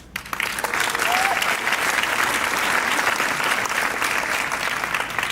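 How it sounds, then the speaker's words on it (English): A packed audience at a gala honoring Ron Chernow gives a sustained, even round of applause, dense and close, continuing throughout. "I would be remiss if I didn't invite us all to give another round of applause"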